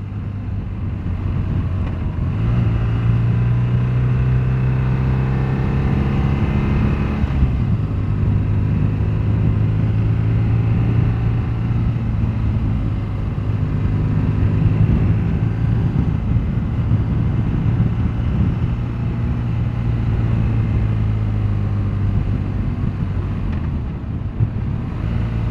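A BMW GS1200 motorcycle on a test ride in Croatia, its steady engine drone rising and shifting in pitch as it accelerates through gears, with heavy wind rush over the microphone throughout and no talking.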